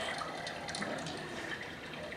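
Steady, even wash of running or pouring water, like a tap filling a sink, played as a sleep sounds app track; continuous and moderately quiet with no voices.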